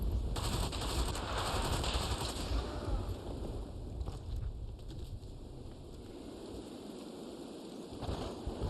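Rapid sustained bursts from a PPSh submachine gun in a video game, loud and dense with echo, firing hardest at first and then trailing into rumbling gunfire and ambient noise.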